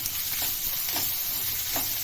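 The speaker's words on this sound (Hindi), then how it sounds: "इसको अच्छे से तेल में भूनेंगे।" Ginger garlic paste sizzles steadily in hot oil for a boneless chicken curry, a constant close frying hiss with a few soft stirring scrapes and no voices.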